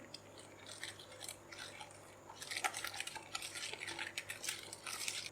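A spoon stirs Russian salad dressing with black pepper and caster sugar in a bowl, faint scraping and clinking in irregular bursts that grow busier toward the end, with no talking.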